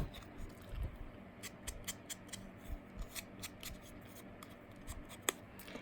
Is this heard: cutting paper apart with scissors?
yes